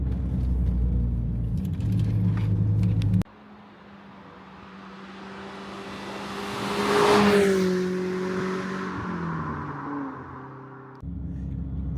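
A BMW E30 M3 Sport Evo engine idles with a deep rumble, then revs up and swells to a peak before settling back, the sound shifting as the car moves past nearby.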